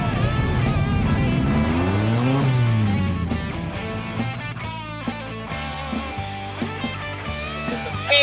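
Lotus Challenge race car engines at the start of a wet race at Zwartkops Raceway, several cars revving and rising in pitch together, then accelerating away and fading.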